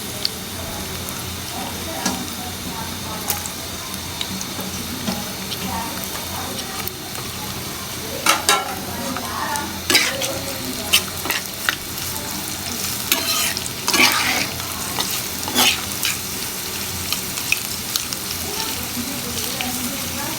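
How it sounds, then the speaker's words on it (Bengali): Chopped onion and garlic fry in a pan of oil alongside dried red chillies for a village-style mixed greens dish, a steady close sizzle broken by repeated scraping strokes of a stirring spoon, with no talking. "আমার পেঁয়াজ ভাজা হয়ে যাচ্ছে"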